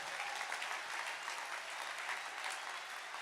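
An audience at the Bob Huggins Fish Fry applauds steadily, a dense continuous wash of clapping with no gaps and no clear voices.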